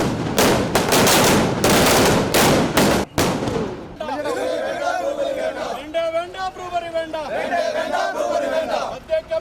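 Firecrackers set off by BJP workers celebrating outside a panchayat office burst in a rapid, loud volley for about three seconds, then give way to a crowd chattering and shouting.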